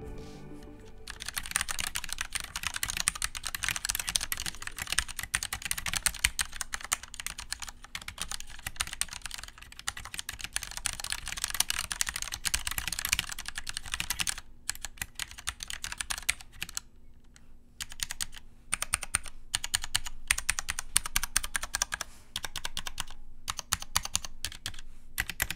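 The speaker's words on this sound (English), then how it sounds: "here's what they sound like stock with stock unlubed Cherry MX Black switches." Steady, fast typing on a Redragon K530 60% keyboard with stock unlubricated Cherry MX Black switches, dense close clacking keystrokes running continuously with a few brief pauses.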